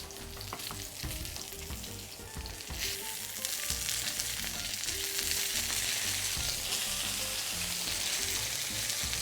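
Fennel frying in a pan, browning as it cooks, gives a steady close sizzle with crackling and faint stirring scrapes, getting louder and brighter partway through and holding that level.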